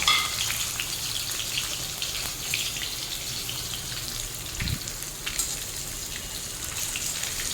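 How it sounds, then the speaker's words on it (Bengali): Boiled eggs dropped into hot oil, with salt and turmeric in the pan, sizzle and spit steadily up close, a single soft knock midway through. "তেল দেখুন গরম হয়ে গেছে এর মধ্যে দিয়ে দেবো সেদ্ধ করে রাখা ডিমগুলো"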